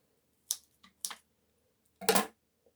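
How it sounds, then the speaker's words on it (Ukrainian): Ordinary scissors snip the tips of sphagnum moss in a few short, crisp cuts: two single snips, then a longer double snip, each close and clear against near silence. "Звичайними ножицями відстригаю."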